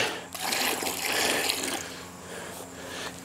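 Water pours steadily into a container to dilute a mixture for soaking a newly planted tree in a garden, a continuous close splashing rush that swells and eases over a few seconds.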